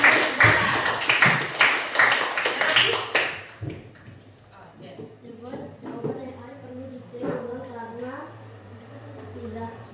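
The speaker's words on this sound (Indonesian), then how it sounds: "Oh iya, betul, tepuk tangan." An audience at a training session on AI communication tools claps hands in a brisk burst for about three seconds. The clapping then stops and a voice talks over quiet room sound.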